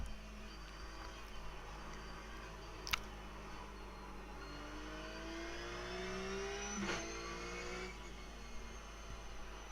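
Ruf C-Spec race car engine at Spa in the iRacing video game, droning at steady revs, then stepping down through a gear with a sharp blip and sliding pitch, fairly faint and alone.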